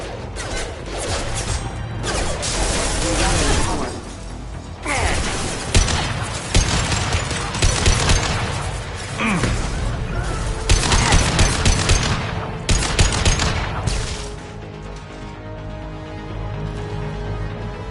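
Heavy gunfire from the Mass Effect 2 Legendary Edition video game rings out in loud, repeated volleys of shots and crashing impacts. The bursts come in clusters across the clip, with short dips between them, and no one speaks.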